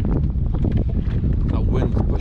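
Strong wind blows across a small boat in rough water. It makes a loud, continuous roar and buffeting rush against the microphone throughout.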